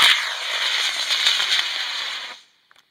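A model rocket motor roars at launch with a loud, steady hissing rush lasting over two seconds before cutting off abruptly into near silence, followed by a couple of faint distant ticks.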